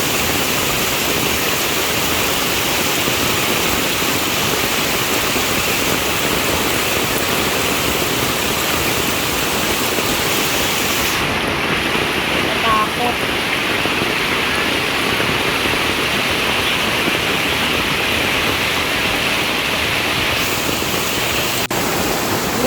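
Heavy rain pours steadily while floodwater rushes past in a flooded area where a wooden footbridge has gone under, a loud, unbroken roar that continues without pause.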